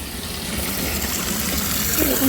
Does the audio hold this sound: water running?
yes